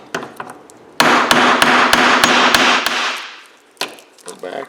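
Hammer blows on a chisel breaking scrap metal loose at a recycling yard: a few taps, then a fast run of about seven sharp, loud metallic strikes over a sustained ringing wash, followed by a couple of scattered lighter hits.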